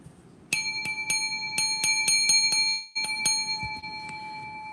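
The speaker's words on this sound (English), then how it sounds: "Damn, I can't even hit my bell." A small bell is struck about ten times in quick succession, each strike ringing out clear and bright with overlapping tones, then a short break before a few more strikes.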